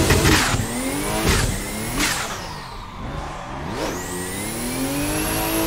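Drift car engine in the racing sim Assetto Corsa revving hard through repeated pulls and gear changes, loud and close, the pitch climbing and dropping several times with faint tire squeal and no talk.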